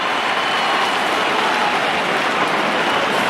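A stadium crowd roars steadily at an Australian football match between West Coast and Collingwood, a dense, loud wash of cheering that holds without breaks.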